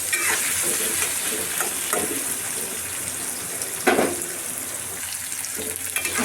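Onions sizzle in hot oil tempered with whole cumin and bay leaves, a steady bright frying hiss with occasional stirring clatters and one louder scrape against the pan.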